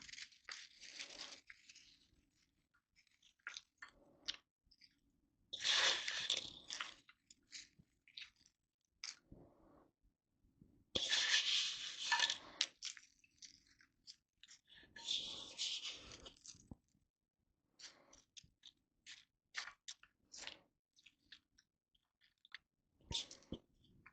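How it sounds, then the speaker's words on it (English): Doritos tortilla chips are crushed by hand and scattered over a casserole, with bursts of close, crisp crunching and crackling between quiet pauses, plus faint rustles and taps. "And now we'll just do the remaining Doritos on top."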